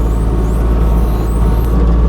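A Kubota U20 mini excavator running close by, a loud, steady low diesel rumble with a continuous mechanical hum and no talk.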